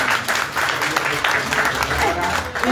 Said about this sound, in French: merci de l'applaudir encore une fois